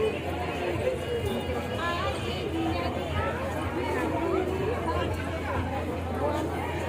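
Dense crowd chatter outside Samaleswari temple before the aarti, a continuous babble of many voices near and far with scattered footsteps and shuffling, steady and loud throughout.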